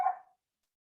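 Dogs in a house bark at people coming in, giving two short loud barks close by with a brief silence between them.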